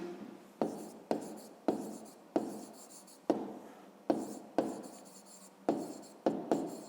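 Pen or pencil writing numbers on paper for a fifth-grade math exercise, heard as a close series of about a dozen brisk scratching strokes in short repeated bursts, with no talking.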